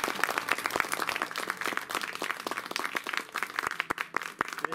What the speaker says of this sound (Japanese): 拍手お願いいたします